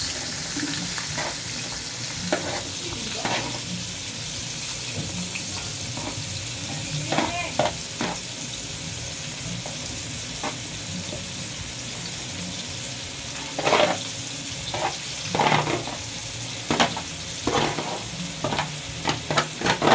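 Lechon pig head being cooked into paksiw in a pan gives a continuous sizzle, with scraping stirs and clinks scattered through and growing busier toward the end.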